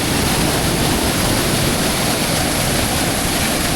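A waterfall pours water down from above in a loud, dense, unbroken roar of rushing water heard up close, steady throughout with no voices.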